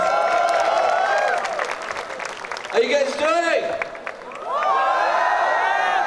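A college crowd at a Hindi film song launch claps and cheers for the film's music composer, with whoops and shouts rising around a voice greeting the audience over a microphone, then the cheering swells again.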